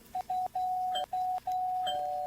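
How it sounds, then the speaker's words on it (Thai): A doorbell in the Roblox game Brookhaven is pressed again and again, heard as a steady electronic tone broken by several quick gaps, buzzing insistently for the whole stretch without talk. "แล้วก็นอนแล้วก็มีคนกดกริ่ง"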